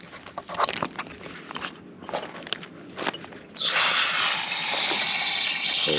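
Footsteps and handling noises give way to a steady rushing stream of water pouring into a bottle, loud and continuous until the end.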